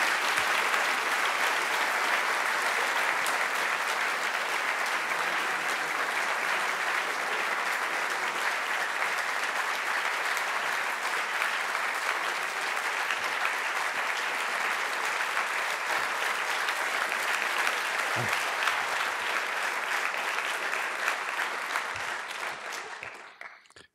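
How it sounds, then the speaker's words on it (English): Long, sustained audience applause welcoming former German President Horst Koehler to a lecture, dense even clapping from a large hall that continues for over twenty seconds before tapering off at the end. "maybe this applause was premature"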